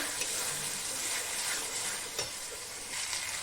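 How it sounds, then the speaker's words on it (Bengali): Salt, turmeric, a little Kashmiri chilli and a pinch of sugar fry in a pan for a doi chicken curry, giving a continuous moderate sizzle with a few light stirring scrapes. "আর এই মশলাগুলো সমস্ত ভালোভাবে ভেজে নেব সুন্দর করে"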